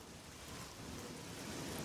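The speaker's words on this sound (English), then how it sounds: "Oh, look at the vibes of the rain." Steady rain hisses evenly and densely in Oblivion, a broad wash of drops with no voices over it.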